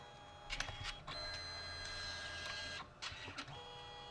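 Canon Selphy CP1500 photo printer at work, a quiet mechanical whir with a steady motor hum, broken by short clicks and shuffles as the paper shifts between colour passes.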